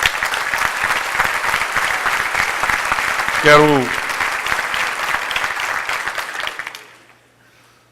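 Audience at a formal opening ceremony applauds steadily for several seconds, a dense even clapping that fades out near the end, with a brief voice rising in the middle.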